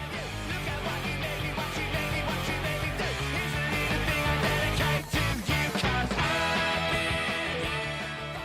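A song, closing track of an EP, plays as a loud, full rock mix with steady drums, guitars and vocals, with a brief drop near the middle.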